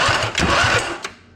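A Toro zero-turn mower's engine turns over on a freshly repaired starter, a loud, close, steady mechanical whirring for about a second before tapering off, with no voices.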